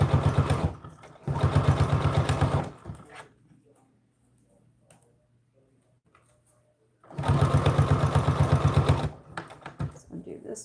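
A sewing machine stitches Velcro onto an American Girl doll dress in two loud, rapid bursts of even mechanical whirring and clatter, separated by a quiet pause with faint handling noises.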